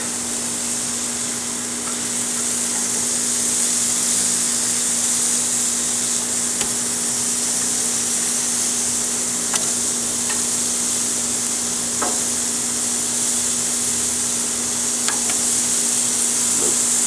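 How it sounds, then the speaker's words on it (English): Marinated pork chops, not very thick, sizzle steadily on a hot grill, a constant even hiss with a few faint clicks and pops scattered through, no talking. "so now we're gonna go ahead and get these on the grill"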